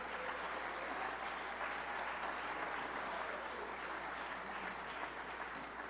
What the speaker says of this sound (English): let's give a round of applause to all those folks who did that work